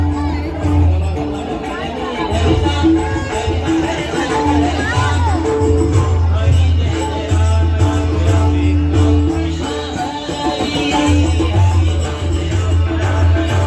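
A dense crowd fills a temple courtyard during a bhajan gathering, a loud steady hubbub of many overlapping voices with a low droning hum beneath, continuous throughout and close around.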